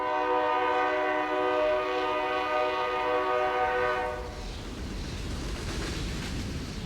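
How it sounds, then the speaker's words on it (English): A train sounds its horn in a long, loud, steady blast, then the horn stops and the heavy rumble and rushing wind of the train close in. "With the train rapidly approaching, Kristin stepped onto the tracks."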